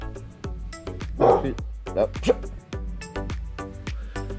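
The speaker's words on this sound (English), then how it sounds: "Stop barking, please." A dog gives a few sharp barks and yips close by, amid a rhythmic beat of music and a person speaking.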